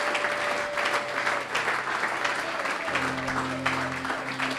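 A church congregation applauding during a Sunday service, with steady, dense clapping that carries through the whole stretch and a faint sustained tone sitting behind it.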